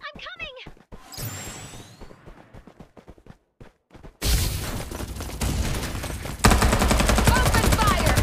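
Gunfire in the battle royale shooter Farlight 84, starting with sparse single shots and an in-game voice, then bursting into loud, dense automatic fire and explosions that build toward the end.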